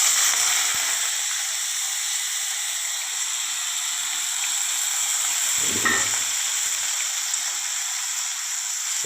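Chopped onion tipped into cumin seeds crackling in hot oil for a Gujarati galka (sponge gourd) curry, a steady broadband sizzle and hiss throughout with a brief louder splutter as the onion lands midway.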